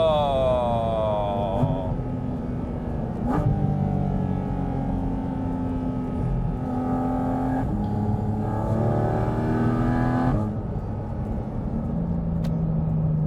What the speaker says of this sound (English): One of the single greatest sounding cars ever made.